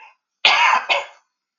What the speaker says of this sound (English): I need to cough, excuse me